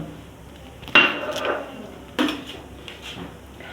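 A spoon stirs a glass of mint lemonade with soaked basil seeds, giving two sharp clinks against the glass followed by a soft swirl of liquid. The sound is close and there is no talk.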